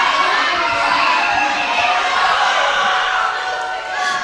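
A raucous crowd cheering and shouting loudly, a dense roar of voices with excited yells that holds steady before dipping slightly near the end.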